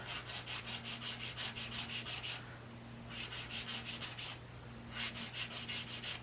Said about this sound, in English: So first, we're gonna file our shape.